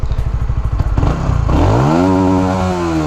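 A motorcycle engine starts with rapid chugging pops, then revs up into a loud sustained roar whose pitch climbs and holds, close and alone.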